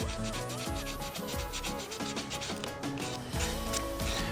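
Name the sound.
sanding wood veneer edge with sandpaper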